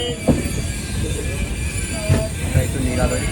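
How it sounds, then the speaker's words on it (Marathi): A Konkan Railway train held at a signal at Karanjadi station, its steady carriage rumble and wheel noise filling the clip, with a few louder knocks and clunks from the railcars. "करंजाडी स्टेशनला या ट्रेनने होल्ड केला होता."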